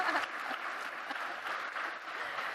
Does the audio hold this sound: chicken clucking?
no